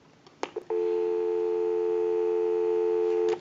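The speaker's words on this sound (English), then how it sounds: "We'll go ahead and give you some dial tone," A Western Electric 2565 multi-line telephone gives a steady, loud dial tone after a couple of clicks from the handset or line, holding unbroken for about three seconds before another click cuts it off.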